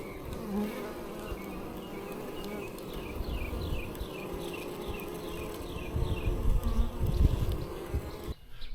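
Honeybees buzzing around new hive boxes set on bottom boards outdoors, a dense drone of many insects with wingbeat sweeps passing near, steady throughout with some rustling toward the end.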